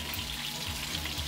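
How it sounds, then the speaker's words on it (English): Guyana salmon fish frying in a pan, giving a steady, close sizzle with a faint watery hiss throughout and no talk. "So she's frying some here."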